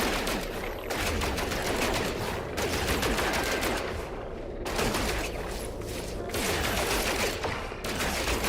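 Rapid, continuous gunfire aimed at targets in a sci-fi shooter game, dense loud bursts running nearly the whole time with a few brief dips between volleys.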